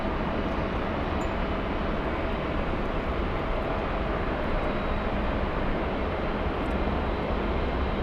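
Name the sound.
Embraer Praetor 500 business jet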